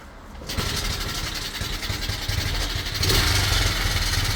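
A cheap monkey bike's small engine cranks and catches, then settles into a loud, rough, buzzing idle that steps up in intensity near the end, heard close with no talk.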